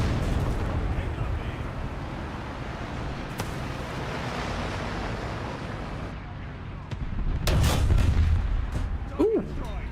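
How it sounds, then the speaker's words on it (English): An artillery barrage in War Thunder rolls as a deep, continuous rumble of distant blasts, swelling near the end with a louder, closer explosion. "Artillery barrage in your sector."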